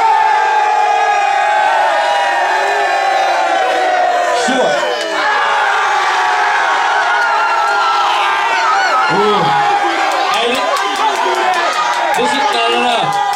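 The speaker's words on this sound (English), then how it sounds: "the crowd overwhelmingly, just by a smidgen, is going for Big A" A crowd at an amateur fight club event cheers, whoops and shouts in a loud, continuous roar, with individual yells and voices rising above the noise.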